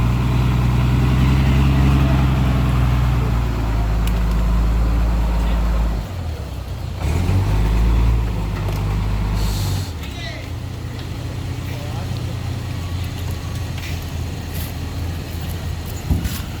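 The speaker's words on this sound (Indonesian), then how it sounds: "ini mobil derek yang akan membawa truk tangki sana" Tow truck sent to haul a crude palm oil tanker truck out of a ravine rumbles steadily nearby, its engine note shifting partway through, while people talk over it.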